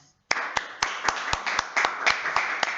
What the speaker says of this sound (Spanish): un gran aplauso a ella